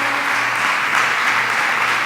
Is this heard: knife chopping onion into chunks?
no